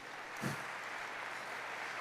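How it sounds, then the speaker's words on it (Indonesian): A church congregation applauds during a sermon: a steady, diffuse wash of clapping from a sizeable crowd, somewhat distant and moderately quiet, with one slightly stronger burst near the start. "Berikan tepuk tangan yang meriah"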